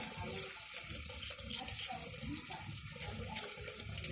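Tap water runs steadily into a sink in a home, a quiet, continuous close splashing stream with no voices.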